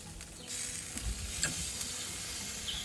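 Tandoori chicken sizzling steadily in oil on a hot cooking surface, a soft continuous hiss close by with faint clicks and no talk.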